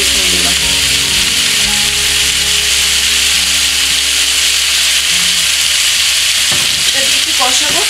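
Spices frying in a pan for Kolkata-style biryani, a loud, dense, continuous sizzle with a rough scraping texture and a few sharper clatters toward the end, no talk.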